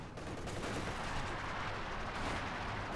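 Artillery fire in the WWII strategy game Company of Heroes 2, heard as a low, rumbling barrage of distant booms under a steady battle din.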